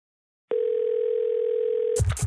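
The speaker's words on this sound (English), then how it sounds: "I called the building superintendent, Mr. Caldwell." A steady, unbroken telephone tone sounds for about a second and a half, then stops abruptly as a burst of rustling noise takes over.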